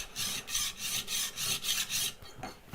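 A hand plane is pushed back and forth across extra coarse sharpening plates, giving a steady rhythm of about eight rasping strokes, loud and close, with no talking.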